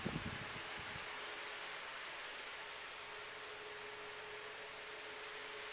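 A vintage 1950s Signal Electric 16-inch Cool Spot oscillating table fan with a shaded-pole motor runs on medium speed, giving a steady soft airy whoosh with a faint motor hum close by after a brief knock at the start.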